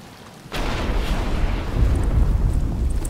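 Rain begins in a video game: a sudden onset of broad hissing, rumbling downpour that starts abruptly after half a second and holds steady and fairly loud to the end, with no talk.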